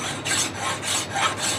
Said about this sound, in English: I'm just going to take this file and run over the top of that just to see how it looks